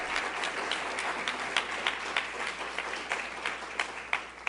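Audience at a San Antonio politics community talk breaks into applause, a moderate, fairly distant patter of many hands with a few sharper individual claps standing out, steady throughout.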